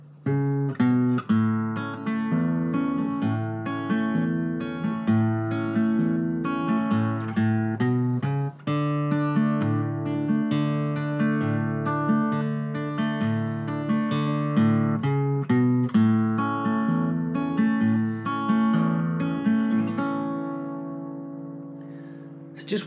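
Travis-style fingerpicked blues on an acoustic guitar, with a steady alternating bass under plucked treble notes and chord tie-ins, played alone at a moderate, even pace and heard close and clear.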